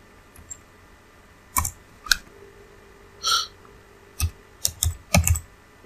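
Keys on a computer keyboard clack in sparse, close bursts as a search is typed, single taps and quick clusters over a quiet room hum.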